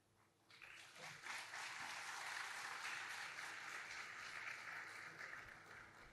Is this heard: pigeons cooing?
no